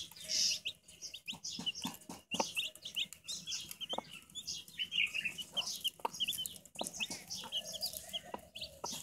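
Mother hen with two-day-old pure white chicks outdoors, soft clucks mixed with frequent high chick peeps and chirps at moderate distance, continuous and lively throughout.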